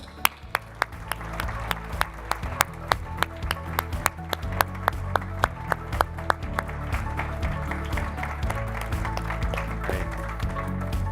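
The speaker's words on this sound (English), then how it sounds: "Let's give them a round of applause" Dense, steady applause from an audience at the DARPA SubT Urban Circuit awards ceremony, with sharper individual claps standing out over sustained background music throughout.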